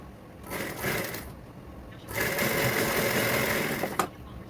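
A sewing machine stitches along a saree border in two bursts of rapid mechanical whirring, a short run followed by a pause and then a longer run, heard up close.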